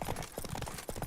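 A horse in the video game The Witcher 3 gallops in a short burst, hooves thudding in quick rhythmic beats close by with no talking.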